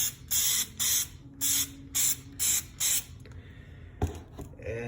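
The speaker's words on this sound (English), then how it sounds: "for the third coat, you can go right ahead and spray it on thick." Automotive clear coat sprayed onto a guitar in a heavy third coat: six loud, even hissing bursts of about half a second each, evenly spaced, followed by quieter handling noise and a sharp knock near the end.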